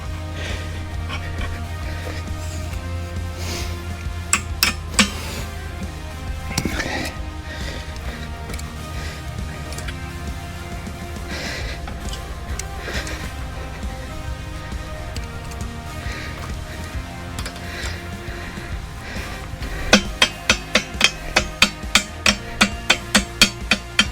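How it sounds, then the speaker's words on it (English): Metal hammer strikes drive a cotter pin while a Harbor Freight 8HP towable backhoe is assembled, scattered taps at first, then a quick rhythmic run of close, sharp blows toward the end over a low background hum. "Let's get this cotter pin in."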